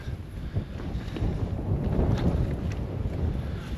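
Wind gusting across an exposed mountain trail among boulders and ridges at Haleakalā's Kaupō Gap, a low rumbling buffet on the microphone that swells toward the middle and stays continuous throughout, with no voices.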